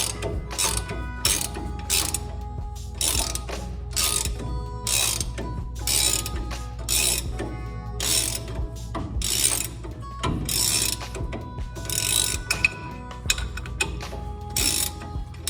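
A hand ratchet clicks in quick, repeated bursts as it loosens a nut on the torsion bar suspension of a 1995 Nissan D21 Hardbody pickup, close and sharp over low background rumble.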